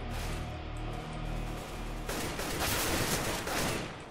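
Sustained automatic AK rifle fire in CS:GO, a dense, continuous rattle of shots that grows heavier and louder in the second half, close and with no talk over it.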